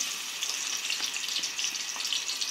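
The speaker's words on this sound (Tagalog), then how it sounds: "Then, ilalagay ko po yung aking onions" Onions frying in a pan for adobong sitaw with pork, giving a steady bright sizzle with small crackles, close and continuous with no talking.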